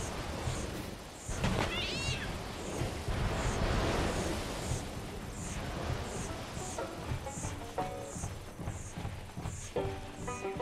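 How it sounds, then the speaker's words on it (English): A pet cat in the pirate video game Sea of Thieves meows repeatedly and insistently, mixed with rumbling game ambience and a blast-like burst, the cries recurring near and loud over the clip. "Cat's going crazy."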